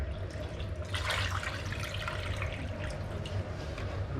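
Water pours steadily into a sous vide cooker container being filled to its max line, a continuous close splashing rush with no talk.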